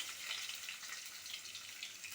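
Onion frying in oil in a wok, a close, steady soft sizzle with no talking.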